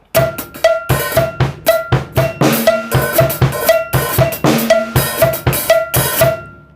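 A drum kit plays a fast, driving Thai mor lam rhythm with bright cowbell-like accents on steady beats and occasional snare hits, loud and close, no voices.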